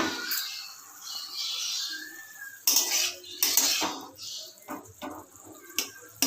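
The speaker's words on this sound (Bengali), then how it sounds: "ঢাকাটা আমি একবার সরিয়ে দেখে নিচ্ছি কতটা কি হয়েছে।" A metal lid clinks and scrapes as it is lifted off a pan of mustard greens frying on a gas stove, with a few sharp utensil knocks and a soft sizzle between them, close and fairly quiet.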